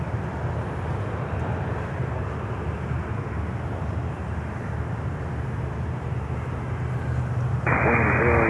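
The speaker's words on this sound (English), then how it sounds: "The next inbound is Volaris Flight 790 from Mexico City on the 321 in Neo" A Volaris Airbus A321neo arriving at Miami airport gives a steady, moderate engine rumble in the distance, and a voice cuts in near the end.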